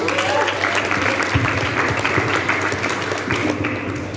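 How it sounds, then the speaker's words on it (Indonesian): A group of students claps for a badminton champion being introduced, a steady wash of applause with a few louder taps and thumps and voices mixed in. "beri tepuk tangannya dong"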